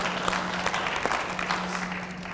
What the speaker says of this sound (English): I just want to give a quick round of applause to our communications department